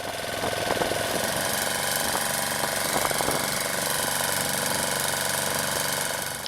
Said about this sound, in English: The locally made wooden boats are fitted with generator sets and propelled by a small propeller fitted at the end of a long bamboo pole. And they are loud.